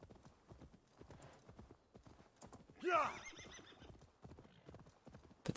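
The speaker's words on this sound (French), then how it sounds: "Patacloc, patacloc, patacloc, je suis du cheval." Horse hooves clip-clop in a steady rhythm in Assassin's Creed Valhalla, with a loud neigh partway through; the hoofbeats run throughout at moderate volume, fairly close.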